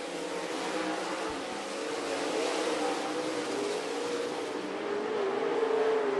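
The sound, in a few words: dirt track race cars racing in heat race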